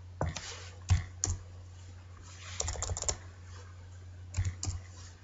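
Someone types a font size on a computer keyboard, with short bursts of close, crisp key clicks separated by pauses, quiet against a faint electrical hum.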